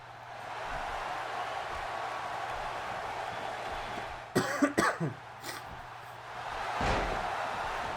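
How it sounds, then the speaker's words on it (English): A few sharp coughs in a quick cluster, close by over a low steady hum, followed a moment later by a single softer cough or throat noise. "I'm coughing and sneezing, all sorts now."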